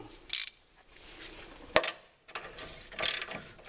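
Ratchet wrench snugging a bolt during truck reassembly, sounding as close, clicky bursts of pawl ratcheting separated by short quiet gaps, with one sharp metallic clink in the middle.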